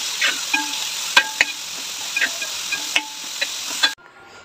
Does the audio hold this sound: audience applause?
no